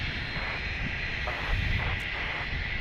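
Embraer jet aircraft at Dallas Love Field during thunderstorms, a steady broad engine roar that holds loud and even throughout, with a slight swell in the middle.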